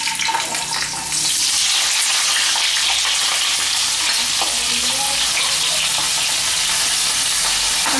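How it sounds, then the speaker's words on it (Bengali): Cut potato pieces drop into hot oil in a kadai and start to fry, a brief quieter moment giving way to a loud, continuous close-up sizzle that holds steady to the end. "আলুটা আস্তে আস্তে ভাজবো"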